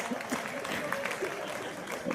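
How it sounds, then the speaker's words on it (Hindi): Audience clapping at a Hindi kavi sammelan poetry gathering in Amgaon, a steady moderate wash of applause filling the short moment with no distinct voices on top. "चलो एक बार ताली वाली बजाओ जरा।"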